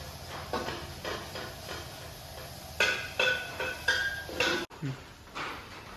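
Sliced onions browning in a pressure cooker for chicken majboos are stirred with a spoon, giving a run of rhythmic scraping strokes over a low frying hiss, with a quiet voice at times.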